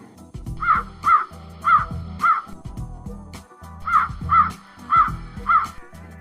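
A crow in a Hindi cartoon caws loudly eight times in two bursts of four evenly spaced calls, with a short pause between the bursts, over a steady low musical background.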